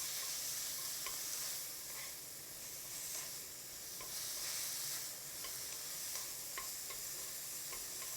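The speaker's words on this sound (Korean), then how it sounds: "간이 배일 정도로 살짝만 볶으면 돼요." Boiled dried sweet potato stems stir-fried in a pan, a steady soft sizzle with scraping spatula clicks and taps recurring throughout, close and alone without voices.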